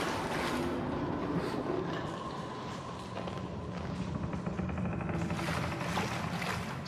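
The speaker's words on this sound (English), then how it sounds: "Flush of water by turning two valves" Rushing water surges through a drain after two valves are turned in the horror game Outlast, a steady, full, watery roar that swells and recedes, with a brighter burst near the end.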